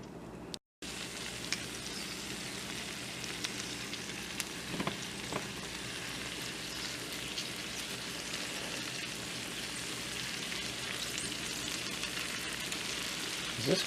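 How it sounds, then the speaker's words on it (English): Fava bean microgreens sauté in a little butter with microgreen salt, giving a steady, fairly quiet sizzle and crackle that runs throughout with no talking. "I'm going to saute them in a little bit of butter and the micro salt that I made"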